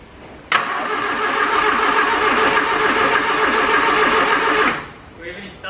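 An old engine, dormant for two years, fires on the choke and catches, then runs loud and rough at a steady rumble for about four seconds before cutting out; voices talk at the end.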